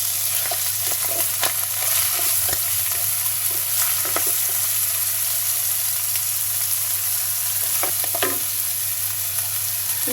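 Duck meat with coriander, cumin, ginger and garlic sautés in a pan, giving a steady close sizzle with scattered stirring scrapes and clicks throughout, with no voices.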